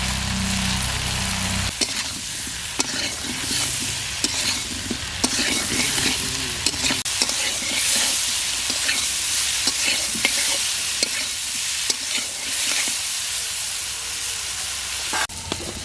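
Eggplant pieces fry in hot oil, giving a loud, continuous, close-up sizzle with frequent sharp clacks of a spatula stirring against the pan.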